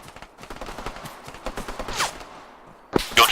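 Heavy gunfire in the ARMA 3 military simulation game, a rapid, irregular burst of shots at middle distance followed by a brief lull and a louder, sharper crack near the end.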